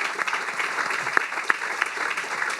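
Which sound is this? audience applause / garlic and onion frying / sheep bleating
audience applause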